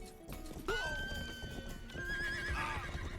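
A horse in the medieval video game Rustler gives a loud, close neigh that rises and wavers for a couple of seconds, with faint hoof clip-clop beneath.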